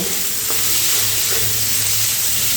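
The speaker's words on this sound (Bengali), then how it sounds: "এবারে ফোড়নের সঙ্গে পেঁয়াজগুলো খুব ভালো করে ভেজে নিতে হবে" Chopped onion frying in oil with whole spices for a prawn and red lentil dal, a steady broadband sizzle and hiss holding at even loudness throughout, with a faint low hum beneath and no voices.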